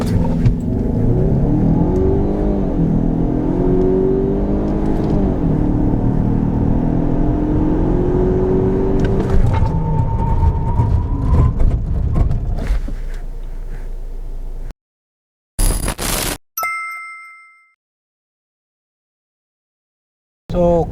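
A Lincoln Corsair with a 2.0L turbo engine accelerates hard, its engine droning loudly and climbing steadily in pitch through the gears, with a rising whine for over ten seconds before abruptly cutting out.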